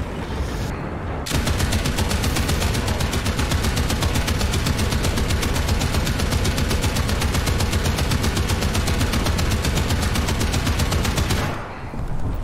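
Sustained machine gun fire from the video game The Grind rattles for about ten seconds as a dense, rapid, unbroken burst, loud and close, with no talking over it.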